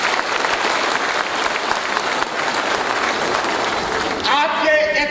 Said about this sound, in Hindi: मैं चाहूंगा उनके लिए एक बार जोरदार ताली बजाएं।